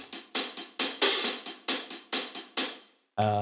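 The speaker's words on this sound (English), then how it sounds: "It's literally just the hi-hats I'm using." Acoustic drum kit hi-hats playing a steady rhythmic pattern of about nine crisp, decaying hits, then a brief pitched tone at the very end.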